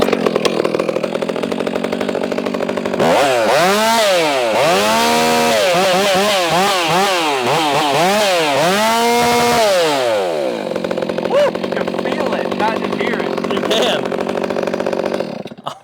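A Stihl MS362 chainsaw fitted with a WestCoast upgrade idles, then revs hard through several rapid throttle blips before dropping back to a loud, steady idle close by.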